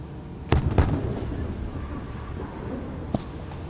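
Weapons fire at a target during a heavy military exercise, with a few sharp distant bangs and pops over rumbling wind noise outdoors, spaced unevenly across the stretch.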